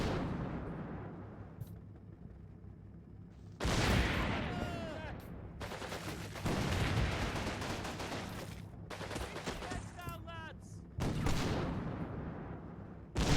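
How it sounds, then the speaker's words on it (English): Battlefield gunfire in the Normandy wargame Combat Mission Battle for Normandy: loud bursts and rattling volleys alternate with quieter stretches of rumbling ambience, and shots crack repeatedly across the scene. "who's that shooting back at you?"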